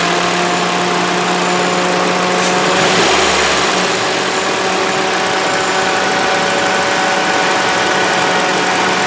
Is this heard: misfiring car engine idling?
yes